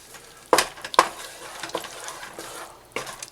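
Four plum Roma tomatoes drop into a hot skillet and are stirred, two sharp hissing splashes followed by softer sizzles and scraping stirs, close and without speech.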